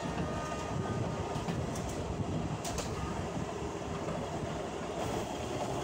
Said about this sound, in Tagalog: napakaganda rin na ma-experience natin na makasakay tayo sa train na ito